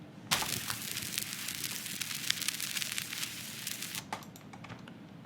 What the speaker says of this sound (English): It is actually a vinyl crackle.